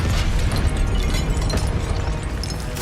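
A Confringo blasting spell exploding in Hogwarts Legacy, a dense, booming burst of crackling impacts that fills the moment loudly, with a sharper pop at the very end.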